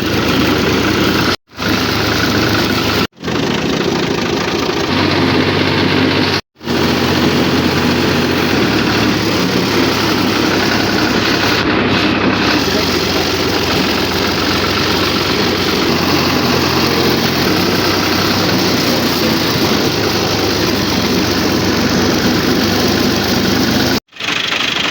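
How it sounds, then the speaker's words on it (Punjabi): A tractor's diesel engine runs after starting, idling loud and close with a steady rumbling knock that continues for the whole stretch, broken by a few brief dropouts and no talking. "ਟਰੈਕਟਰ ਸਟਾਰਟ ਕਰ ਲਿਆ ਹੁਣ ਲੈ ਕੇ ਚੱਲਨੇ ਆ"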